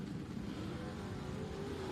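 Drag race cars, a 427 and a 350 cubic inch, roar with a deep steady engine drone at low level, a continuous heavy rumble without clear breaks.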